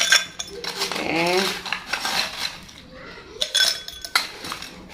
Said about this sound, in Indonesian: Sekarang aku mau isi es dulu. Nih pakai sendok ya, sendok khusus buat ini, buat es.